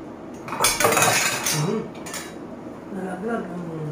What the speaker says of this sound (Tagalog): Nalaglag ang sandok.